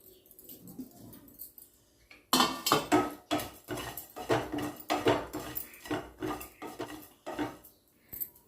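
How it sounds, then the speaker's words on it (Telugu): Sesame seeds, cardamom, cinnamon, cloves, cumin and coconut powder are dry-roasted and stirred in a pan, with a quiet start followed by a rhythmic run of close, sharp scraping and clinking strokes. "నువ్వులు, యాలక్కాయలు, దాల్చిన చెక్క, లవంగాలు, జీలకర్ర, కొబ్బరి పొడి వేసుకొని వేయించుకోవాలి."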